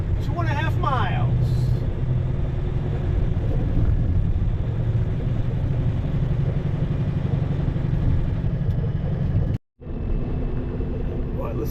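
A new Kenworth truck rolling along quiet back roads with the throttle off makes a steady, low engine rumble inside the cab, broken by one brief dropout, while someone talks over it.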